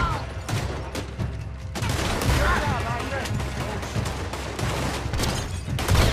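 Repeated gunshots in Red Dead Redemption 2 ring out in dense bursts over noisy game ambience, loud and close throughout.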